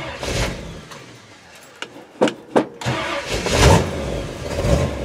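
A 1958 Chevy Nomad wagon's warm, uncammed engine cranks with a few sharp bursts, then fires and settles into a loud, steady running roar close by, with no talking.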